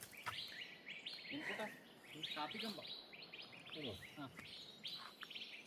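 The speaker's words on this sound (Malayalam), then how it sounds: "നമ്മുടെ അടുത്ത് ഒരു കിളിയുടെ ശബ്ദം കേട്ടോ" A bird calls repeatedly nearby, high chirps and trilling phrases in quick bursts over a quiet outdoor background on a footpath.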